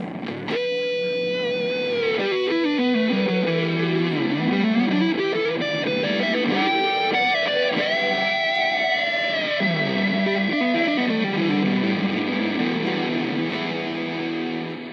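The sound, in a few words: Electro-Harmonix reverb pedal demo with reverse reverb and Big Muff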